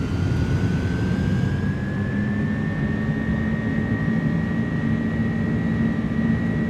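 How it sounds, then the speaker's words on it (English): The jet engines of an iniBuilds A300F airliner roar at takeoff power in a flight simulator. A steady, loud broadband rumble runs under a thin, slowly rising turbine whine, unbroken from start to finish. "Takeoff power is set. We are rolling."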